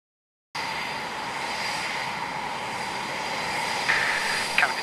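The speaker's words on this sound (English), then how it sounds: "Canopy's closed, throttles are up, engines are started and taxiing out for runway 25" Fast jet engines running in Flight Simulator X, a steady loud whine and rumble that starts abruptly and holds, swelling slightly near the end with a few brief higher tones on top.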